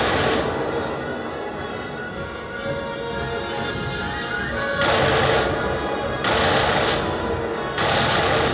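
Video game gunfire aimed at a record player: a dense, loud rattle of shots, then three sharper, harder bursts near the end, with no talk over it.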